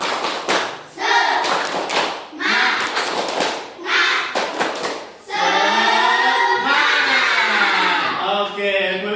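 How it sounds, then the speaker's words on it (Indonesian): A classroom of students performs a rhythmic spirit clap, bursts of sharp group claps mixed with loud chanting and shouting voices, energetic and close, in repeated phrases that end in a sustained collective cheer. "Tepuk semangat."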